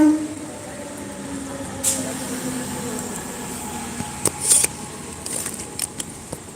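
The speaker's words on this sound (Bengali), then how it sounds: "এই দেখ ট্রেন চলে এসেছে।" A train arriving at a rainy railway station, heard as a steady low rumble with scattered metallic clanks and a brief squeal, fairly close.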